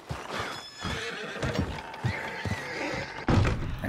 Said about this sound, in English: And there's a horse there.